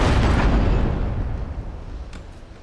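A grapeshot cannon blast in the pirate ship game Abandon Ship: one loud, close, booming discharge that rolls off into a fading rumble.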